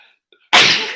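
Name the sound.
sneeze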